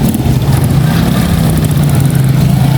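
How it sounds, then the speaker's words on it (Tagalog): Road traffic at a busy market on market day, with a continuous loud engine drone and low idling rumble from nearby vehicles, steady throughout. "Traffic na oh."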